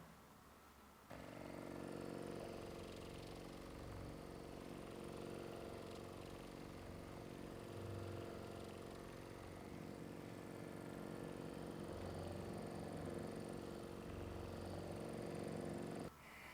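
A Thor-gun vibrating massage gun runs along the forearm from the outer elbow toward the inner wrist, giving a steady, close, unbroken motor buzz with a rich humming drone that holds at even loudness for about fifteen seconds, with no talking.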